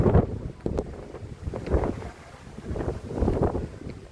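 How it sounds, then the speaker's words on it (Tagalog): Strong mountain wind gusts at the Mangili Tindaan Historical Nature Park along Malico Road, buffeting the microphone in repeated rumbling surges that rise and fall over a steady airy hiss. "naramdaman ko ang lamig ng hangin dito at mahangin talaga"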